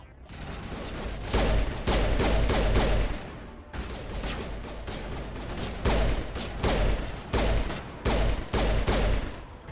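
Rapid bursts of gunfire in the Mass Effect video game come in repeated loud volleys with short pauses between them, sustained across the whole stretch.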